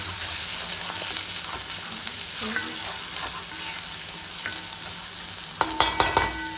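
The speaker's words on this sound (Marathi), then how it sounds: "टमॅटो टाकू आपण याच्यामध्ये. असं परतून घेऊया." Tomatoes frying with green masala paste in a pan, a constant dense sizzle with faint stirring scrapes and a few sharper clanks of the spatula near the end, without speech.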